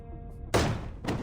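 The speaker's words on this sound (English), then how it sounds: "The door swings open with a loud bang, causing him to jump in surprise." A door bursts open with a sharp bang in the Reverse: 1999 game, a loud sudden hit followed by a second burst of noise, standing out over a low tonal background.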